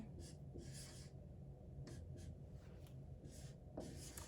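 Close, quiet strokes of writing as a math equation is written out, short scratchy bursts with pauses between them over a steady low background hum, no voices.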